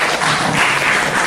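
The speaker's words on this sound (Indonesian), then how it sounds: "tepuk tangan buat Lailatul." A classroom group claps together in a short, dense burst of applause, loud and close, with no clear voices over it.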